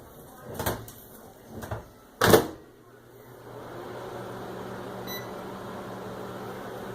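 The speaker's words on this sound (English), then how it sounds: "But that's my microwave." A household microwave oven runs with a steady low hum after a few door and handling knocks at the start, a faint beep partway through.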